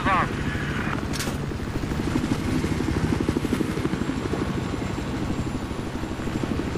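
An enemy helicopter in a Battlefield 4 Obliteration match thrums with a steady rotor beat alongside game noise, while people talk over it.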